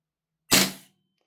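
A Marksman AR9 gas blowback airsoft rifle running on propane fires one shot of 0.2 gram BBs: a single sharp, loud crack with a brief metallic clack that decays quickly into silence.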